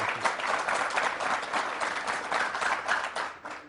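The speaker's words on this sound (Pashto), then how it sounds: "یو چک چک ورته ونه کړې" An audience breaks into sustained applause, a dense wash of many hands clapping at once that holds steady for several seconds before tapering.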